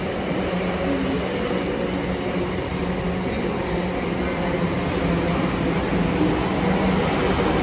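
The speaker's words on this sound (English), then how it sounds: "D1030 Southwestern Railway service from Bournemouth to London Waterloo." A South Western Railway train bound from Bournemouth to London Waterloo rumbles steadily through Southampton Central, a loud continuous rolling drone with a faint voice underneath.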